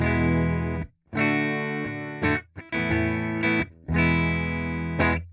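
An electric guitar through a modelled Fender Super Reverb amp plays full, ringing chords with a warm, slightly distorted tone, strummed in bursts with brief gaps between them.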